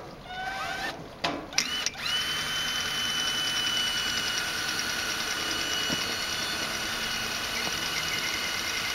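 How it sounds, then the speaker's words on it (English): Small drill bit boring through the thin metal edge of a gutter downpipe outlet: a few brief clicks and bursts, then a steady, fairly quiet high whine that runs on evenly. "So I'm now drilling through the outside edge of the outlet and the piece of metal that I cut and peeled back."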